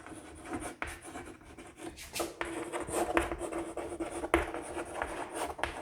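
Writing on a board during a physics lesson on reflection of light: soft, scratchy strokes come in short irregular bursts, faint and close, with no talking.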